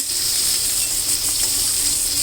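Broccoli with red, green and yellow capsicum sizzles loudly and steadily in a hot pan, a close, continuous frying hiss with no voices.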